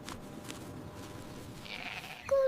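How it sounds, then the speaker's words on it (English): A sheep gives one short bleat near the end, heard over a faint background hum. "Sheep. This is a sheep."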